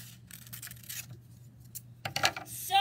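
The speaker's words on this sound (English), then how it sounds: "then I'm going to cut Rudolph's ear out" Scissors cutting a reindeer's ear out of paper, with quiet scrapes and rustles of handling, then a short run of crisp snipping near the end.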